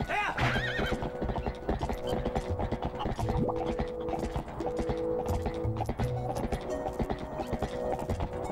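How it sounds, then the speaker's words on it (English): Epona, the horse in the GameCube game Zelda Twilight Princess, neighs and whinnies over rhythmic galloping hoofbeats, loud and close, with game music playing steadily underneath throughout. "Not like you do a realistic jump anyways, Epona. It's not how horses jump"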